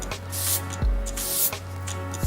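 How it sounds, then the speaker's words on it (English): Zero Gravity hair spray hisses in a few short bursts onto quarter-inch sections of hair, close and fairly loud, with brief pauses between sprays and no talking. "and I'm going to spray"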